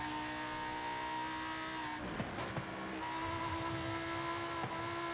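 A Lamborghini Huracan engine in the Forza Horizon 5 racing game drones steadily at high revs, dipping briefly with a gear shift and faint tire noise before climbing again, fairly quiet and with no voices.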